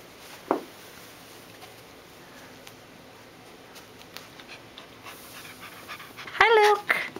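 A puppy pants softly and quickly throughout, with a brief high yelp near the start and a louder whimpering burst near the end.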